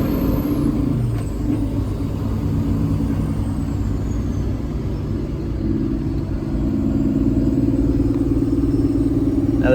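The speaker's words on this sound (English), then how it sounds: "I think that right there's just the exhaust brake." A Peterbilt truck's exhaust brake holds a steady, loud low rumble from the cab, a droning engine tone that swells slightly in the later seconds, with no talking over it.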